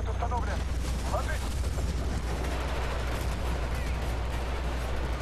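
Battlefield Bad Company 2 battle on PS3, with continuous rumbling explosions and gunfire filling the whole stretch, dense and loud with no pause.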